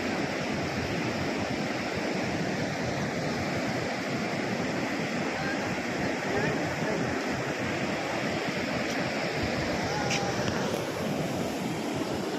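Heavy river water flowing in a swollen rush, a steady broadband roar that stays loud and continuous throughout, with no voices.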